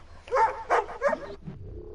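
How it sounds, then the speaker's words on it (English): A dog in Assassin's Creed Rogue barks three times in quick succession at close range, ending in a low growl. "Quiet dog"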